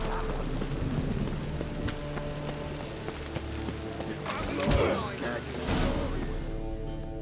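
Steady rainfall in the video game The Witcher 3: Wild Hunt, a continuous wash of drops on surfaces with low rumbles and a faint swell midway, held at an even level throughout.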